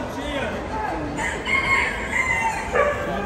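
At a busy poultry market in Bursa, a rooster crows with a few drawn-out calls at moderate distance over background chatter. People talk nearby.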